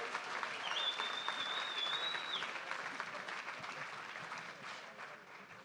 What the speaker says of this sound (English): How about a big round of applause for our second group of Giants?